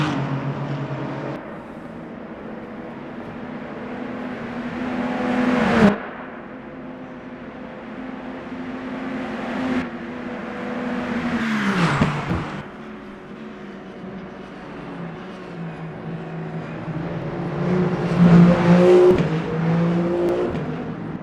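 Race cars lapping Le Mans in the Le Mans Ultimate sim, including the damaged number 8 car, with engines droning, rising and falling as cars pass nearby, a sharp passing swell midway and a louder burst of engine noise near the end.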